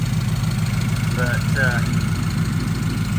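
The engine of a 1971 Ford F100 XLT Ranger Heavy Duty Special pickup idles with a small exhaust leak at the flange, a steady close low rumble throughout, with someone speaking briefly over it.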